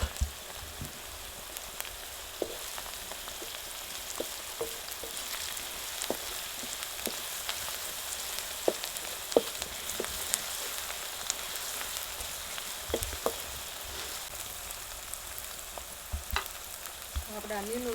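Spiced chickpeas frying in a pan with turmeric and ground coriander-cumin, giving a steady soft sizzle broken by scattered crackles and the occasional scrape of stirring, close and even throughout with no talking.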